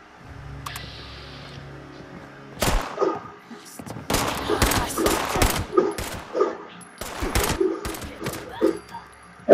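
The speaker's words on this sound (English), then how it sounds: "About 3 or 4 shots, you know, pretty standard." Gunshots in the video game Fallout 76 ring out in sharp, loud bursts, single cracks and quick clusters of three or four shots repeating over several seconds, with no talking.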